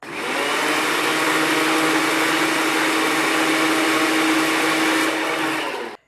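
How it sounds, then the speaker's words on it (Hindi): An electric spice grinder whirs steadily and loudly for about six seconds, pulverising tikka masala spices into a fine powder, then cuts off at the end. "इसलिए मैं अच्छी तरह इसको पीसूंगी ग्राइंडर में।"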